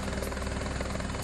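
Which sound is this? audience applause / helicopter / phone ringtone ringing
helicopter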